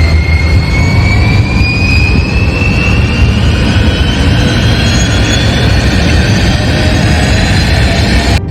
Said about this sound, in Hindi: प्लेन रनवे पर थोड़ा रफ्तार बढ़ी